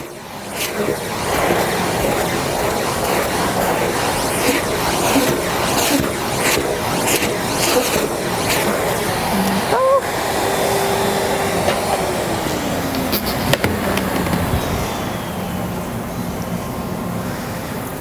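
A vacuum cleaner sucks up loose animal hair during grooming at a veterinary clinic, a steady broadband whir running close and continuous with small shifts in pitch partway through.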